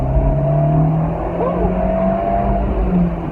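Turbocharged Fiat 124 Abarth accelerating, a steady loud engine drone rising in pitch from inside the car for about three seconds, with no talk.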